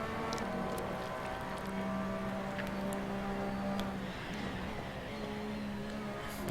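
A Porsche 911 RSR race car engine heard onboard at the Nürburgring holds a steady, loud drone for the whole stretch, with slight pitch dips through the corners and faint wind noise over it.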